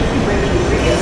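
A tram rumbles along in the video game F.E.A.R. 2, a loud, continuous rolling roar close up, with someone talking over it.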